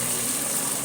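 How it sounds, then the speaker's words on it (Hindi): Water pours into a pan of browned desi chicken for a village-style curry gravy, a short, steady rushing splash with no talk. "अब मैं इसमें पानी ऐड करूँगी"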